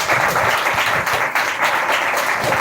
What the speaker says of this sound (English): please give a huge round of applause for your participation